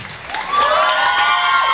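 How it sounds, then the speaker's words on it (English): A live stage show audience screams and cheers at an MC's prompt, a dense crowd roar that swells after a brief build and holds loud and steady with high-pitched shrieks on top. "Ladies scream."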